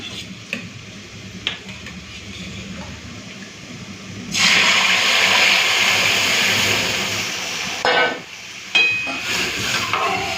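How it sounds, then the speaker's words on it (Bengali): Lentil dal poured into a pan of fried onion, green chilli and panch phoron: a sudden loud, steady rush and sizzle that runs for several seconds, with a brief break and a second surge near the end. "ডালটা ঢেলে দিই।"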